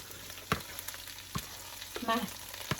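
A big pile of cabbage frying in a skillet gives a soft low sizzle, with several sharp spoon taps and scrapes and a brief rustle of leaves being stirred, close and fairly quiet, no talking.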